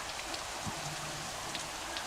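Steady rain falling, a soft, even wash of drops pattering on surfaces without a break, fairly faint and continuous with no voices.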